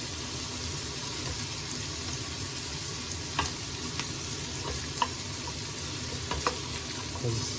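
Onions soften in a hot pan for a carbonara, making a soft, continuous sizzle with a few light clicks and stirring knocks over the top. No one speaks.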